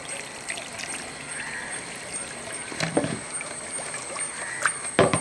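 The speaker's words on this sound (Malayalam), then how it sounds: "ഇത് മുങ്ങിക്കിടക്കത്തക്ക രീതിയിൽ വെള്ളം കൂടെ ഒഴിച്ചു കൊടുക്കുക" Water pours into pumpkin curry in a pressure cooker, a continuous trickling stream close by with a few knocks of the vessel near the end.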